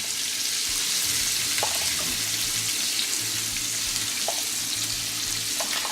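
Seasoned vegetables for fajitas sizzling in a pan, a loud, continuous crackling hiss with a few brief clinks, steady throughout with no talking.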